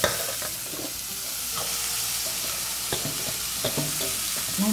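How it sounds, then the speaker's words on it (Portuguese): Watercress sautéing in a pan, a steady sizzle running throughout with scraping stirs and light clicks of a utensil at irregular moments, close and alone with no voices. "você vem com o seu agrião e vai Tacando dentro. refogando."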